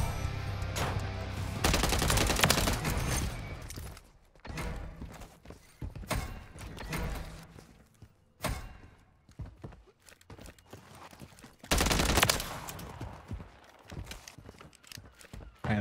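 Bursts of rapid gunfire from a Striker shotgun in the video game Modern Warfare 3, loud, dense clusters of shots with brief pauses between volleys, mixed with game action sounds.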